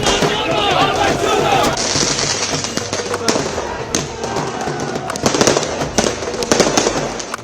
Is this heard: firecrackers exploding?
yes